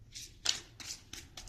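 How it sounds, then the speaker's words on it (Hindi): A deck of cards being handled and split into two piles, with a few short, close, papery swishes and slaps in an uneven rhythm in a quiet room, with no talking. "2 पाइलों में कार्ड्स को डिवाइड करने वाली हूं"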